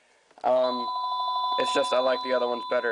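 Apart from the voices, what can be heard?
mobile phone ringing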